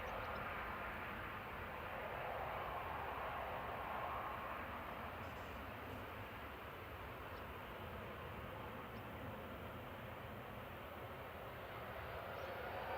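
A Boeing 787-9 at Manchester Airport produces a steady, broad engine rumble that holds evenly through the whole stretch, moderately distant, with no talk over it.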